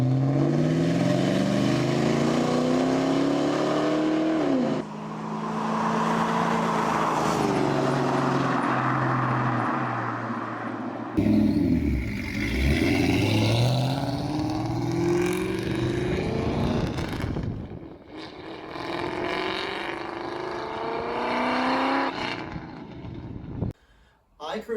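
A loud 1994–2004 Ford Mustang engine with Flowmaster Thunder cat-back exhaust revs hard, its exhaust roaring and rising in pitch, then settles into a deep rumble and drops off near the end.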